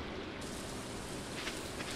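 Steady rain falls in the farming video game Stardew Valley, an even broadband hiss that holds unchanged for the full two seconds with no voices over it.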